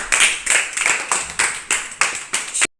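Children in a classroom clap together in seven quick, even bursts, loud and near, with no talking.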